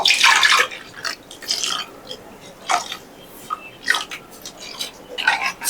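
Water splashes and trickles in short bursts, poured in several separate pours into a metal pressure pan with brief pauses between them.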